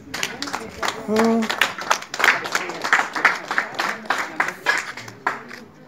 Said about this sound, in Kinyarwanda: ariko amashyi ndayakeneye ni ukuri